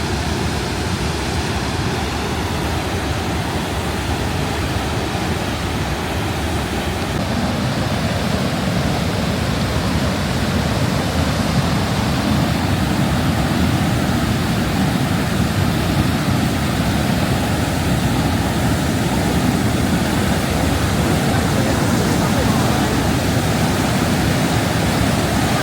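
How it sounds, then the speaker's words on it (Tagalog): A waterfall in a Canadian valley rushes with a loud, steady broadband roar that stays constant and unbroken, with no voices over it. "Lakas ng tubig."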